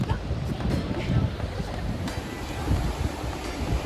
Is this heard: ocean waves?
yes